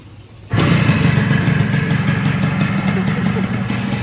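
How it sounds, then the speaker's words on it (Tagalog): A 1990 Kawasaki HD2 two-stroke motorcycle, original and unrestored, fires up suddenly and settles into a close, steady idle with a rattly, buzzing putter. "Kung ano yung tunog ba talaga nitong Kawasaki"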